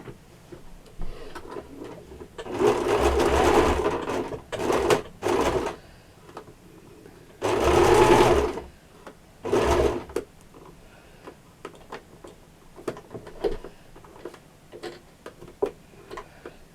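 A sewing machine stitches a small plain piece of fabric for a mini apron, running in several short bursts of steady whirring separated by quiet pauses, close by with no talking.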